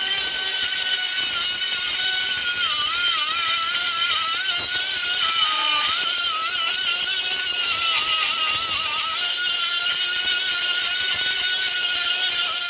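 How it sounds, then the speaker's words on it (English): An angle grinder works over a welded thin sheet-metal patch panel, giving a loud, continuous high-pitched whine that wavers slightly in pitch as the disc presses into the metal, close up, with no talk. "Now I'm going to go ahead and I'm going to grind all this up"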